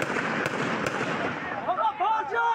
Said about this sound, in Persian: حالا می‌شود به خوبی فضای ملتهب چهارراه را درک کرده و صدای شلیک گلوله‌ها را هم شنید.